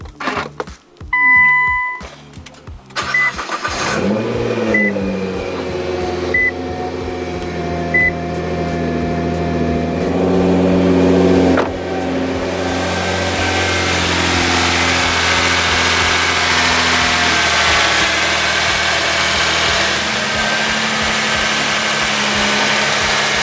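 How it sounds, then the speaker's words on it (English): A Nissan GT-R with newly added power mods cranks and fires up with a short whirring start, then settles into a steady, loud idle that drones on close by, with a brief rev swell partway through. "we're gonna go ahead and start up the car, see if there are any leaks"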